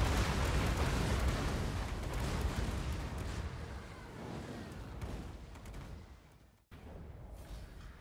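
Rockets slamming into a Stegadon during a Total War: Warhammer 2 battle: a dense, continuous roar of explosions and gunfire-like blasts, loud throughout, with a brief sudden drop-out near the end before the din resumes.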